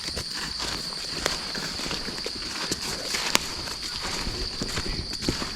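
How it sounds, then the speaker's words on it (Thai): Footsteps crunch through dry scrub forest in Thailand at a steady walking pace, with crackling twigs and leaf litter under a constant high insect drone, and no voices. "อาจารย์คิงพาเดินสำรวจป่าละเมาะตรงนี้ครับ"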